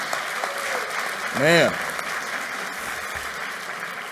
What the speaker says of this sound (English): So give them another round of applause, right?